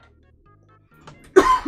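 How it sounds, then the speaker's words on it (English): A single loud cough bursts close into a microphone after a near-silent stretch with a faint low hum. "I will try really hard not to like cough into the microphone"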